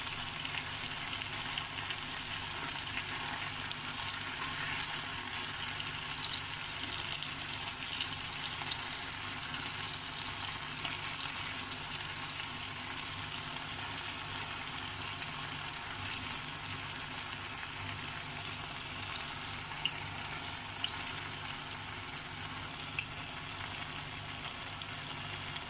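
Peri peri chicken pieces frying in a pan give off a constant, even hiss of sizzling oil that stays steady and moderately quiet throughout, with no voices.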